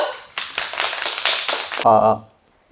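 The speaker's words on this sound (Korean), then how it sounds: "진태원 교수님 큰 박수로 맞아주십시오" Audience clapping to welcome a philosophy professor at a book-concert lecture, a dense burst of hands lasting about a second and a half, then cut off abruptly as a voice begins over the last moments.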